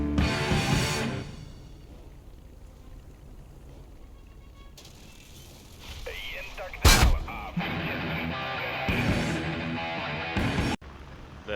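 A tank fires in a video game: two sharp, loud cannon blasts, about four seconds apart, over a steady mechanical engine rumble and clanking.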